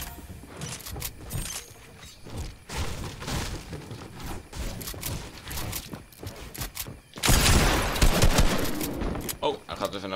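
Gunfire in Fortnite Battle Royale crackles in repeated bursts of shots, loud and close, with a heavier volley near the end while people talk over it.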